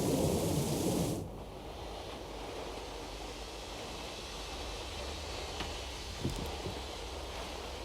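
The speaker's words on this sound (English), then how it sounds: "We can go as soon as this storm's over" Thunderstorm in the game Syberia: The World Before: a loud burst of thunder for the first second, then a steady low rumble of rain and wind with a faint distant crack near the end.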